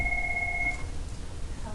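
A telephone gives a short electronic ring in a math classroom, a faint steady tone lasting under a second before fading into quiet room noise.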